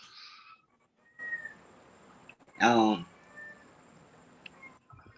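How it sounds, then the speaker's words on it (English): A cat meows and cries loudly indoors, with one strong, drawn-out wail near the middle and a few fainter calls around it, while people talk quietly in the background. "This cat is making all this noise, crying."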